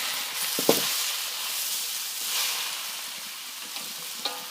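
Beef sizzling and being stir-fried in a hot wok for beef chow fun, a steady bright hiss with a few sharp clanks of the spatula against the metal.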